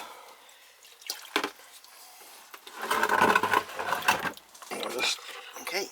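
Water is poured into an air conditioner's condensate pump, with irregular splashing and dripping bursts that swell and fade, and a light mechanical rattle close by.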